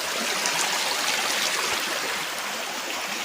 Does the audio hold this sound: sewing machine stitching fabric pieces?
no